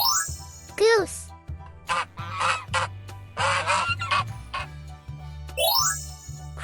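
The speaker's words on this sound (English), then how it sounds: "Goose." A goose gives a few loud honks between bright jingling chimes over a steady low musical backing, with a voice speaking briefly.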